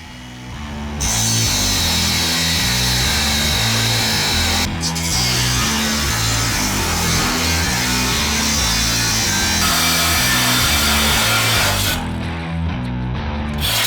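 Power tool cutting through a metal plate: a loud, harsh grinding whine runs continuously for several seconds with a brief dip partway, pulsing roughly as the cut proceeds, close and with no talk.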